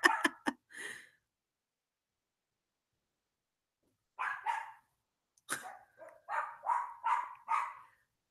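Tiny spoiled pet dogs yapping for treats, a quick burst of sharp barks, then a pause, then a run of high, rhythmic yips, close and loud with no talking.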